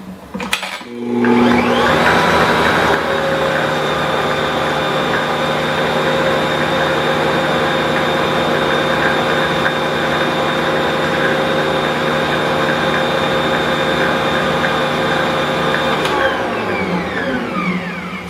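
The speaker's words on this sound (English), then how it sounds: "Now we're going to turn the mixer on again and we're going to mix this together." An electric stand mixer beats eggs into snickerdoodle cookie dough, a steady loud motor whine with a strong tonal hum that starts up, holds evenly for about fifteen seconds, then winds down, with no talking.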